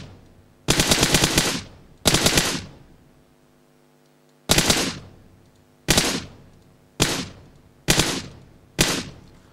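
PUBG video game gunfire rings out in loud bursts, seven sharp volleys with rapid automatic rattles, separated by short gaps of quiet, and no voices present.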